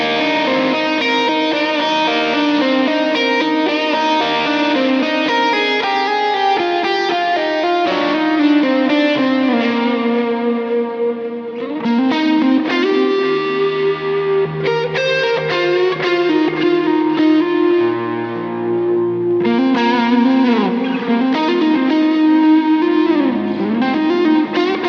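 A Gibson electric guitar, either a Les Paul or an SG, plays through the neck pickup with gain, giving a loud, continuous distorted tone with sustained chords and riffs and no talk.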